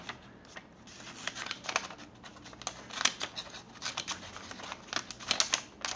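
Garden multi-tool pruning shears snip at branches in a series of quick, crisp clicks and cuts, fairly close and quiet, with irregular rhythm and no talking.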